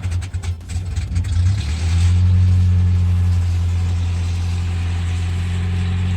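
A Mazda B2600i pickup truck engine cranks briefly, then catches and settles into a steady, loud, low idle heard up close with no voices.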